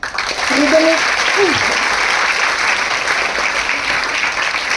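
An audience at a competitive-exam guidance event applauding to congratulate students, dense sustained clapping close and loud throughout, with a voice speaking briefly over it near the start.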